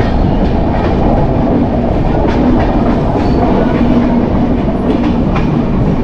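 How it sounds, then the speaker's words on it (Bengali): The Kumbh Express passenger train runs on its tracks after leaving Patna, with a steady loud rumble and rhythmic clickety-clack, heard from inside a 3E class carriage with no talking. "পাটনা থেকে ট্রেন ছেড়ে দিয়েছে"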